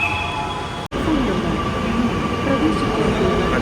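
At Town Hall metro station, an arriving metro train gives off a loud steady rumble and rolling rail noise with faint squeals, close by, broken by a brief dropout and then continuing.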